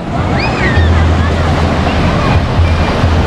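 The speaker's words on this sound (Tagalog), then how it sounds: "taas ng alon, no?" Sea waves breaking on a Pangasinan beach in summer, a steady broadband wash of surf with wind buffeting the microphone, constant and fairly loud, with a low rumbling hum running underneath.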